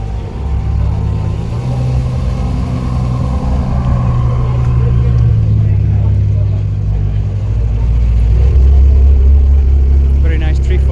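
Ferraris, among them a 348, pass by on an Auckland street as a steady, loud engine drone that swells toward the end, with a voice talking over it.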